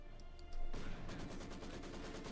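Machine gun and Gewehr rifle fire crackle in the Company of Heroes 2 video game, a dense, steady rattle of distant battle gunfire that starts abruptly and keeps going.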